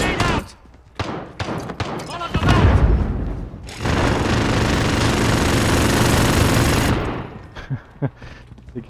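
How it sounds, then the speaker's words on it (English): A frag grenade bursts in a Modern Warfare tactical room-clearing mission, a loud close blast with a sustained roar of debris and gunfire, bracketed by short sharp shots and scattered voices. "Frag going in."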